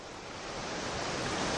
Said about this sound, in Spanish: En la arena que bañan las olas